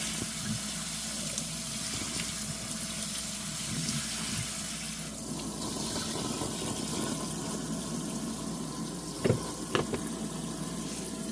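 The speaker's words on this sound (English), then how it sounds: "We're going to give these a good wash." Split peas being washed under a running kitchen sink faucet, a steady close rush of water with sloshing, and a couple of brief clinks near the end, no voices.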